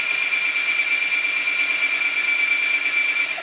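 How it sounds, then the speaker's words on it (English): A power drill runs during a small bathroom remodel, giving one loud, steady, high-pitched whine that holds evenly for about three seconds and then cuts off. "And then I have my drill."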